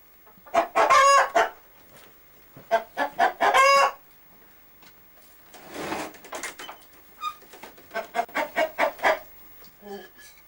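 Hens cluck loudly and close by in choppy bursts, with short pauses and a rustling scuffle in the middle.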